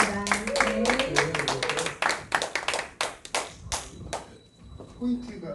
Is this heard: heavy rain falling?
no